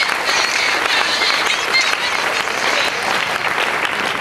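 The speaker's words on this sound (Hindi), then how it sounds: "एक बार जोरदार ताली इनके लिए।" A seated audience at a business meeting breaks into loud, sustained applause, dense rapid clapping that fills the whole stretch at steady volume.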